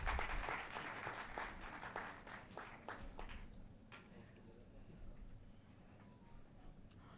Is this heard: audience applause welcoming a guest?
yes